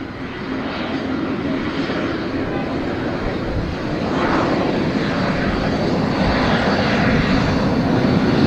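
A Spirit Airlines airliner powers up for a go-around on short final at Tampa, a loud, sustained jet engine roar that swells midway, with voices talking over it.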